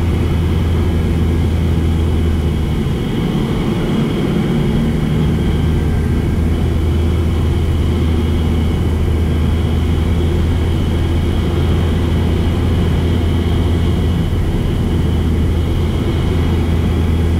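The electric motor and propeller of a Pipistrel Velis Electro aircraft are throttled down in flight, giving a loud, continuous low drone with steady hum and wind noise that eases slightly early on, with no talk.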